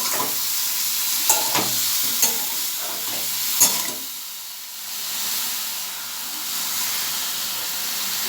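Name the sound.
stirring and frying ridge gourd in a pan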